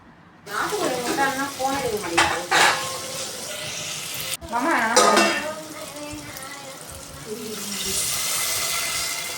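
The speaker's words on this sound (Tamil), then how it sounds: "கட் பண்ணி வச்ச 2 தக்காளியும் அதில் சேர்த்து நல்லா வதக்கலாம்." Onion, garlic and chopped tomatoes sautéing in a pan, with bursts of stirring and sizzling that come and go, some running-water splashes and a voice talking over parts of it.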